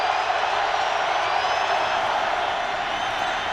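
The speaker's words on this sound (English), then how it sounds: "The Ravens faithful, cheering on their defense" Baltimore Ravens fans in a packed stadium during a 2009 NFL game against the Colts roar steadily as a dense, distant crowd wash, cheering on the defense without distinct claps or voices standing out.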